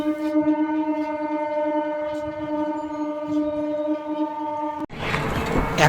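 A train at Rishra railway station sounds its horn in a long, loud, steady tonal blast for nearly five seconds, then breaks off into the rushing rumble of the moving train.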